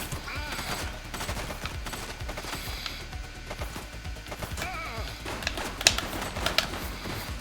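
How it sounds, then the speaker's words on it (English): Rapid bursts of gunfire crack from a fleeing shooting suspect, dense and chaotic with sharp loud reports scattered across the whole stretch, a few louder cracks standing out near the end. "He's shooting!"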